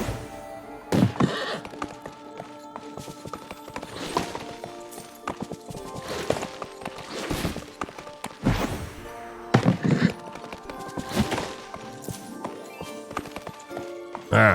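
Horse hooves in the video game Disney Dreamlight Valley, clip-clopping with occasional whinnies and thuds amid layered game sounds and music, steady over a long stretch.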